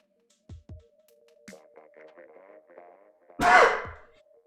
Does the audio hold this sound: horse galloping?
no